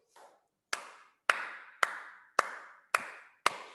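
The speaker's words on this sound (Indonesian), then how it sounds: "tepuk tangan 6 kali" Young kindergarten children clap hands in unison during a counting exercise, six sharp, evenly spaced claps after a brief soft sound, each crisp and separated by clear silence, fairly quiet overall.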